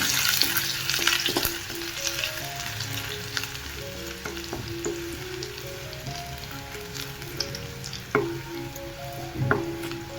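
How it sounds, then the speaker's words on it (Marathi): Cumin, mustard seeds and garlic sizzle and fry steadily in hot oil in a pan, with occasional spatula stirs and scrapes, a close, continuous crackle with no talking. "जिरे, लसूण, त्याला चांगलं कलर चेंज होईपर्यंत लसणाला पण परतून घेऊया"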